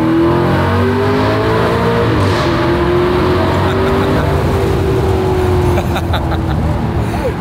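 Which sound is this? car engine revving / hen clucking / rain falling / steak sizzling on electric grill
car engine revving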